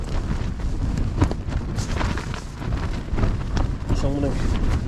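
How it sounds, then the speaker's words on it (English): Strong wind buffets a campsite and an MSR Hubba NX1 tent, a steady roaring rush with gusts swelling and easing throughout, close to the microphone, with flapping and rustling bursts and no voices. "That wind has not given up."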